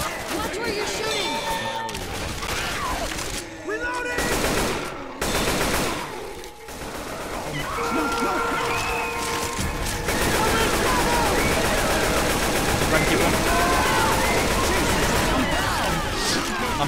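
Rapid gunfire from the game Left 4 Dead 2, loud and continuous bursts with clangs and crowd-like noise in a chaotic versus match, heard alongside players talking.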